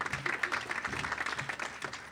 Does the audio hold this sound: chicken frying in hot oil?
no